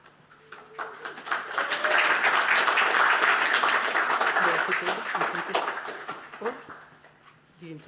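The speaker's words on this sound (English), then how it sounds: "This is where you applaud." An audience at a PhD defence applauds, the clapping swelling to a dense, sustained burst before fading, with a voice speaking over it at the start and end.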